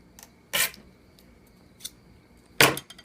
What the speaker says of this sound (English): the purpose of the knife here is to just get a little split going in this thing